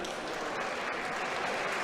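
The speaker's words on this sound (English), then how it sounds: "gets a nice hand from the crowd here at Cumberland Valley" Applause from a crowd at a Cumberland Valley high school basketball game as an injured player gets back up, a steady, moderately distant patter of clapping filling the whole moment with no voices over it.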